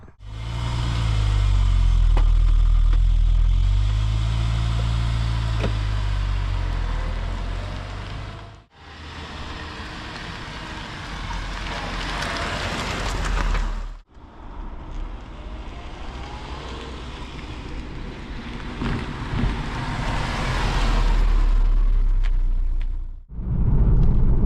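A 2.3-litre Saab 9-5 Aero, newly bought at auction, driving along with all four wheels tight; steady engine drone and road and wind rumble from inside, rising and easing with a few brief drops in level.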